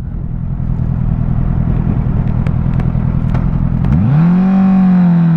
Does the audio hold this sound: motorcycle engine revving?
yes